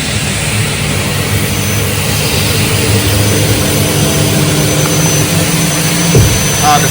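An upcut saw motor with spray mist coolant runs loud and continuous, a dense broadband roar with a steady hiss and no pauses throughout.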